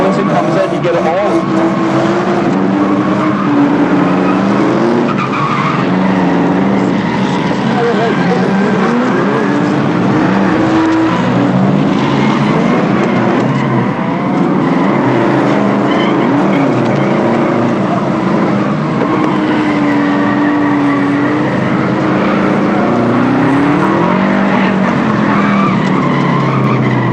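A Subaru drift car at Driftland revs hard and skids continuously, its loud engine wailing and surging through long tire squeals that stay close and unbroken.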